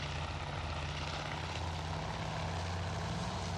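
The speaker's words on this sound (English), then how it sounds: "Wildcat racing in once again." A Wildcat fighter plane in a video game drones past with a steady propeller engine hum, a constant low throb at moderate level with no voices.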